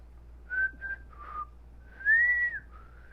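A person whistles a short melodic phrase of a few sliding notes with pauses between them, close and fairly quiet over faint low hum.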